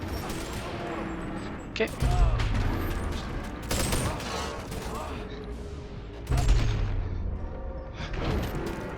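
Pistol fire in the Boneworks VR game: repeated sharp shots and heavy impacts in bursts over a steady background, with a brief spoken word between them.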